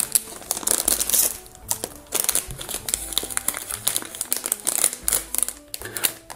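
A foil blind box bag for a Repolar Day Dreams figure is torn open and crinkled, with bursts of sharp crackling rustle separated by short pauses, close up and with no talking.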